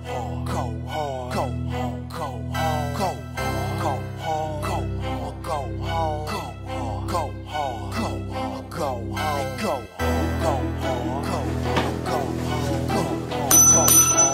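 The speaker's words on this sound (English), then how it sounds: "I just heard the doorbell" A doorbell rings over and over in quick bright chimes, a long run of repeated rings with a brief break near the middle, loud and close with a low hum beneath.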